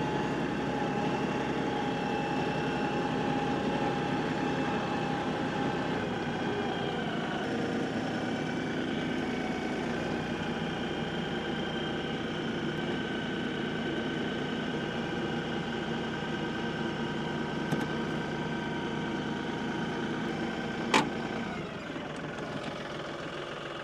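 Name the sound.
tractor engine running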